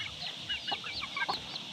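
White chickens cluck in a quick run of short, close calls, a few overlapping bursts in a brief moment with no talking.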